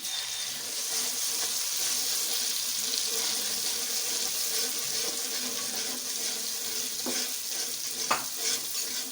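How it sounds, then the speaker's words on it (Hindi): Egg masala fries with light-brown onions in a pan, a continuous loud sizzle with scraping and stirring noises throughout and a sharp clink near the end. "अब हम इसमें वो मसाला डालेंगे अंडों का।"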